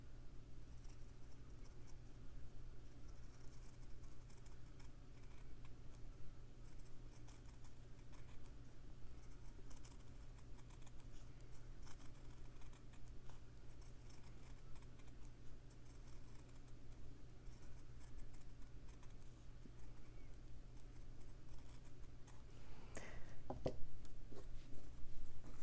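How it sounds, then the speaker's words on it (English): Scissors cut around a fabric snowflake design for slow stitching, with many soft, close snipping and rustling ticks over a steady low hum, growing slightly louder near the end. "And I'll just cut around it, kind of a fussy cut design"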